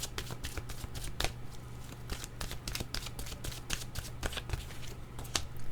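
A deck of tarot-style cards is shuffled close up in a rapid, continuous rustle with many quick riffling flicks. It is fairly quiet, with no talking.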